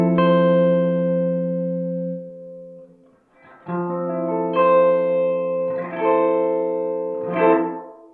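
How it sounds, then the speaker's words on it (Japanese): Electric guitar through a Strymon BlueSky reverb pedal with high and low damping turned to zero, a few sustained chords and notes ringing into a long, washy reverb tail, played alone. "ハイダンプもローダンプも一旦左に振り切ります。 0の状態にします。 するとこんな音です。"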